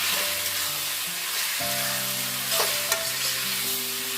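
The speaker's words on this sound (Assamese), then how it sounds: "মই এতিয়া এনেদৰে 5 মিনিটমান ভাজি ল'ম।" Steady sizzling of ground cumin frying in a pan, a continuous hiss with faint stirring scrapes and a soft clink near the end.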